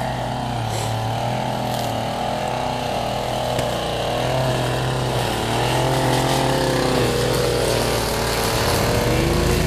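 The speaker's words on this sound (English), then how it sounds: "trimming the fence line" A string trimmer runs loud and continuous along a fence line, its engine droning and shifting in pitch as the line cuts, with a lawn mower-like motor throughout.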